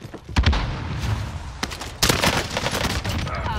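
Pistol shots in a video game firefight: sharp, loud cracks in quick irregular bursts, close and punchy, with a brief pause midway before another flurry.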